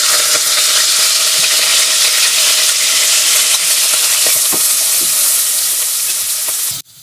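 Pearl barley (pirlovka) fries in a pot with a loud, continuous sizzle and hiss, close up, lasting several seconds before cutting off sharply at the end.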